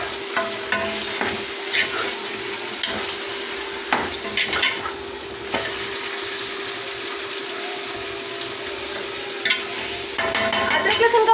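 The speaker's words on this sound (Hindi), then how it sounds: "1 किलो, वो गोश्त ऐड कर देंगे। अब इसे अच्छे से मिक्सिंग करेंगे।" One kilogram of mutton is stirred and fried in a pot, with steady sizzling under repeated scraping strokes and occasional sharp clinks of the spoon against the metal; no voices.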